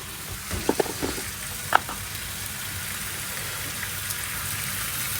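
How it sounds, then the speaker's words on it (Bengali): Mutton pulao ingredients are lightly sautéed in a pressure cooker, giving a steady close sizzle with a few soft stirring knocks near the start and no talk. "তার কুকারে একটা সিটি মারবো, তাই এইখানে একটু হালকা কষিয়ে নিচ্ছি"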